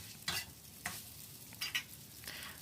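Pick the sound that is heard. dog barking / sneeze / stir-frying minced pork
stir-frying minced pork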